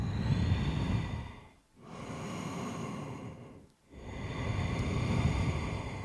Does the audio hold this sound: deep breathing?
yes